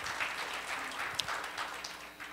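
An audience at a cryptocurrency conference claps to welcome the second presenter, a moderate, fairly even patter of many hands that tapers slightly toward the end.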